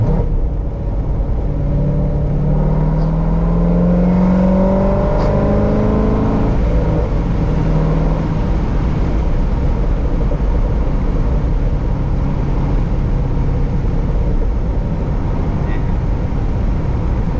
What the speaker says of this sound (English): you can't beat a loud V8 that handles like this car handles